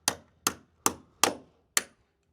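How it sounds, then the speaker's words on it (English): A hammer strikes an exposed wooden post while driving bolts into it, five sharp, close blows evenly spaced with quick decays and no talk. "make sure you don't miss when you're hammering these bolts in, because that is a pretty exposed post"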